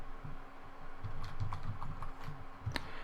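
Code is typed on a computer keyboard, a faint, close run of light, uneven key clicks with one sharper tap near the end.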